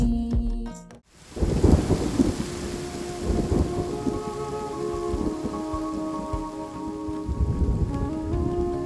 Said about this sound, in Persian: بارون شدت گرفته